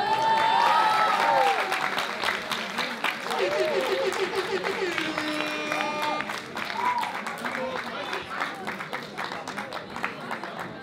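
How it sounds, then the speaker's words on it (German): An audience at a hip hop 2vs2 dance battle at a Pfingstcamp applauds and cheers in a steady crowd wash, with whistles and shouts rising over the clapping and a voice heard intermittently through it. "Ich will einen dicken Applaus haben für Gifty und Siehe."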